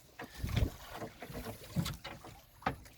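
A diesel boat engine runs on the water, a rough low rumble with wash and wind noise, punctuated by a few louder thumps as the hull meets the waves.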